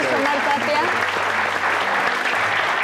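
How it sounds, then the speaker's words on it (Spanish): A studio audience breaks into a loud, steady round of applause for Luis Omar Tapia, with voices and a faint musical tone heard under the clapping. "un fuerte aplauso, por favor"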